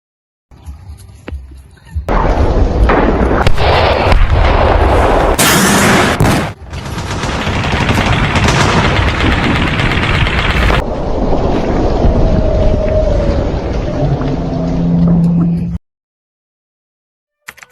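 A school reenactment of the Battle of Ambarawa fills the air with loud, dense bursts of gunfire and grenade blasts, crackling almost without pause at close range before cutting off abruptly.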